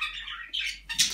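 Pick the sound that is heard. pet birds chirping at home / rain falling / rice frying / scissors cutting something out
pet birds chirping at home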